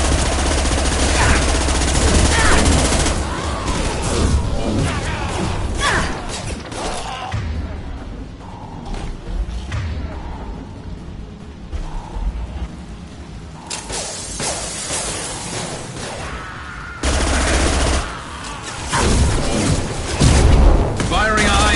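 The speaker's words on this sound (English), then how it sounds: "Firing a high-impact shot." Rapid bursts of gunfire and booming impacts from a Mass Effect 2 firefight, loud and dense at the start and end with a quieter stretch between, mixed with game effects.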